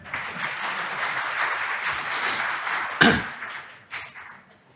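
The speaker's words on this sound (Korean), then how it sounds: "박수 쳐주세요." Applause from a farm-industry festival audience greeting a speaker, sustained clapping that swells briefly with a sharp burst then tapers off into quiet.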